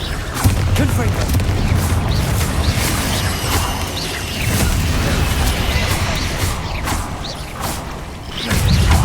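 Blasting-spell explosions in the video game Hogwarts Legacy, fired against spiders, as a run of muffled booms and crackling debris under a dense, continuous game mix with occasional voice.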